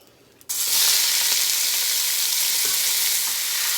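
Pork butt dropped into a hot pot for Cajun jambalaya, starting with a sudden loud burst of frying that holds as a strong, steady, close sizzle while it browns.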